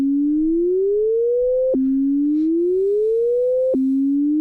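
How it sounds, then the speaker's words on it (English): A pure synthesized sine tone from MIDI notes in Unreal MetaSounds glides smoothly upward, then snaps back down and repeats the slow rising sweep, clean and steady with no other sounds. "converting that to frequency and feeding that to a sine wave and out to the mono output"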